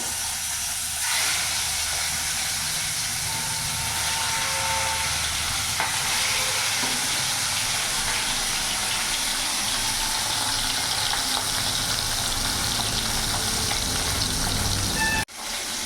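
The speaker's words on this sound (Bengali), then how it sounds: "তেল গরম হয়ে গেছে এবার এক এক করে মাছ আমি দিয়ে দেবো" Pieces of rohu fish sizzle steadily in hot mustard oil, a loud continuous frying hiss that fills the whole stretch with no talking.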